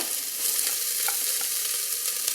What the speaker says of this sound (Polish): Najpierw podsmażamy cebulkę